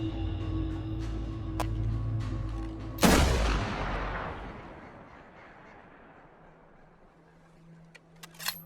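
A single loud gunshot fired into the sky in The Last of Us game, a sharp blast with a long echoing decay, following a steady droning hum and a faint click at the end.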